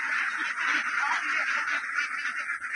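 A flock of ducks on a tilapia farm quacking in a dense, continuous chorus, steady and fairly close, with a voice faintly underneath.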